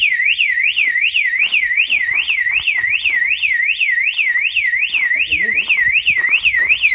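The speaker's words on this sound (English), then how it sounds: "The alarm's going off, so I presume it's set." An Autowatch caravan alarm blares a loud, rapidly warbling siren tone that repeats in a constant rising and falling cycle at close range, with faint movement sounds underneath.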